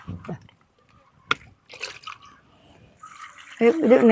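Liquid fertilizer slurry, diluted five or six times with water, is poured onto bean plants, giving a brief splash and then a louder, sustained trickle and splatter near the end, with talk heard earlier.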